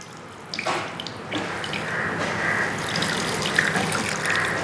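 Water runs and trickles steadily as it is pressed out of chopped onions for Peshawari chapli kabab, a close, continuous wet flow with a few soft squelching bursts at the start.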